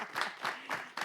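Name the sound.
audience applause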